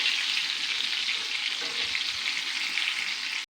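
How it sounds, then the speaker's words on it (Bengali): Ridge gourd and egg fritters frying in hot oil make a steady, even sizzle up close that runs throughout and then cuts off abruptly, with no talking. "এরকম করে কিন্তু লাল লাল করে ভাজতে হবে।"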